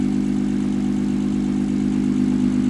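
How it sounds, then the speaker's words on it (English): BMW 335i with a single-turbo conversion idling shortly after a cold start, a steady, continuous low engine drone that stays even and close throughout with no revving. "That was the first cold start in a while, so it was a little rough at first, but then after the idle went down a bit"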